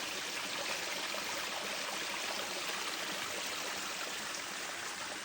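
Water flowing steadily past the bases of plants outdoors, a constant broadband rushing and trickling wash, close and unbroken with no voices.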